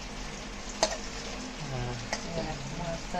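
Onions fry in a pan with a low, steady sizzle, punctuated by a couple of sharp stirring clicks while a quiet voice talks.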